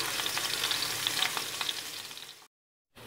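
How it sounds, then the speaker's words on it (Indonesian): Minced garlic stir-frying in hot oil gives a close, steady crackling sizzle with faint scraping of stirring. It cuts out abruptly near the end into a brief silence. "Setelah minyaknya agak panas, kita masukkan bawang putih, kita oseng sampai bau harum."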